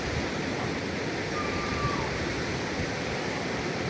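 Strong wind blows at the seashore, a continuous, even rush of broadband noise with no pauses.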